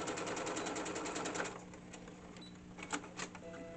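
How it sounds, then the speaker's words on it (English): Sewing machine backstitching the ends of a seam on a fabric hanging dish towel: a fast, steady run of close mechanical stitching that gives way to slower, scattered stitches and clicks. "I'm back stitching at both ends"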